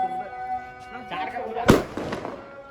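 A single sharp firecracker bang bursts out midway during Diwali celebrations, over a background of steady tones and mixed noise, followed by a brief crackling tail.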